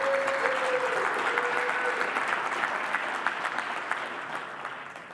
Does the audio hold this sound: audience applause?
yes